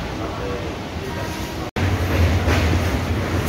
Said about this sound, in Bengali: 8:10 ট্রেনটি ছাড়লো